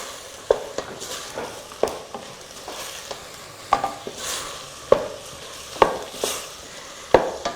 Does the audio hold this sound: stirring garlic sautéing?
yes